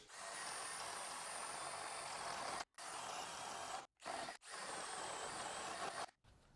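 A Skil 12V PWRCore compact cordless drill runs in long steady whirring bursts while drilling holes, stopping briefly a few times between holes, close and fairly loud with no talking.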